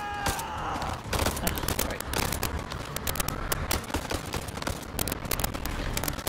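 Rapid video game gunfire in House of Ashes, dense bursts of sharp shots running nearly nonstop under a noisy in-game soundscape.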